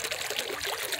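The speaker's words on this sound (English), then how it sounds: "It just bubbles up right there" Spring water bubbling up at Ravine Gardens State Park in Palatka, Florida, a close, continuous gurgling trickle with no voices.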